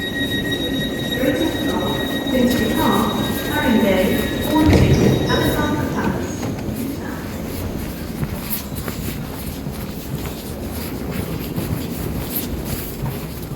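Steady rumble of a six-coach Siemens electric passenger train running, with a broad rush and rattle throughout, some faint tones early on and muffled voices mixed in.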